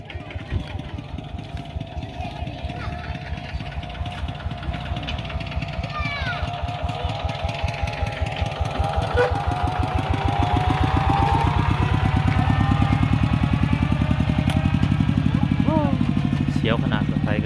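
A farm tractor engine chugs steadily in the countryside, its low pulsing drone growing louder and closer toward the end, with faint voices and other sounds in the background.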